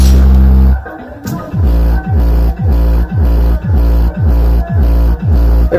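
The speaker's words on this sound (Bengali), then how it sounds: "আর এখানে আমি একটা গান চালাচ্ছি" A song plays through a homemade 4558 bass booster low-pass circuit, leaving only deep, boomy bass: a steady pulsing beat of heavy low thumps repeating about twice a second, loud and close, with no talking.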